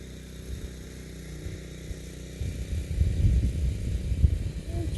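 An E-Flite P-39 Airacobra 1.2m electric RC warbird passes overhead, its motor whir swelling from faint to louder over about five seconds as it approaches, with outdoor wind noise underneath.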